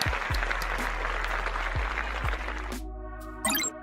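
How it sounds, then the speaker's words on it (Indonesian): Applause from an audience honouring top-scoring civil service exam participants, a broad wash of clapping for about three seconds before it cuts off, followed by a brief musical sting at the end. "Mari kita tepuk tangan dengan kedua peserta ini"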